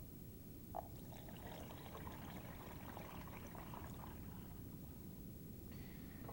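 Fresh cold water poured into the 96-ounce tank of a 2001 Starbucks Barista home espresso machine, a faint, steady trickling pour that runs continuously with no talk.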